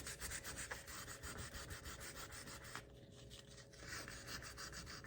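Steady back-and-forth rasp of sandpaper rubbed across a cooktop stove surface, close and continuous with a short pause partway through.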